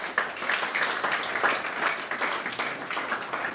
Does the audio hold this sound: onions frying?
no